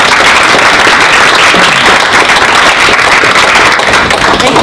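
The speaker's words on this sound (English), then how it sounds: "I think that Brad needs a round of applause for his presentation" Loud, dense applause from an audience after a presentation at a PSTA meeting held in a restaurant, a continuous roar of many hands clapping without letup and without any voices.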